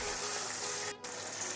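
Jute leaves frying in a pan for a Bengali prawn curry, a steady close sizzling hiss that runs throughout with a brief dip near the end.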